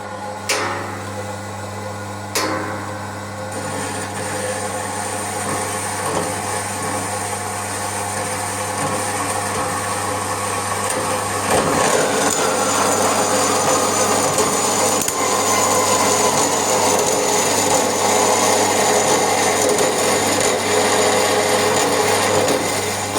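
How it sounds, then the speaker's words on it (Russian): A STALEX band saw cuts through a metal profile tube, giving a steady grinding and rasping drone that swells to a louder, fuller cut midway and runs without pause. "Давайте попробуем с вами отрежем профильную трубу."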